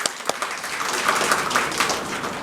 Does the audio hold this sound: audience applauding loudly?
yes